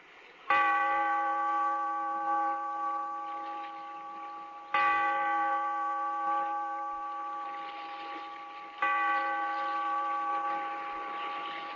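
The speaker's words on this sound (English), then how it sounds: "Bellkeeper, toll the bell, so that all may know we are gathered again in The Weird Circle." A deep church bell tolls three times at slow, even intervals in a radio drama, each stroke ringing out loudly and fading gradually into the next.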